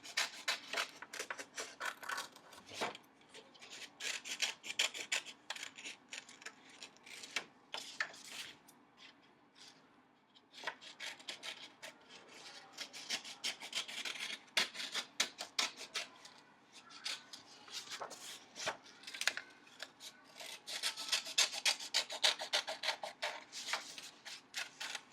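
Scissors cutting out paper glasses, a continuous run of close, soft snipping and rustling paper with uneven rhythm and no talk.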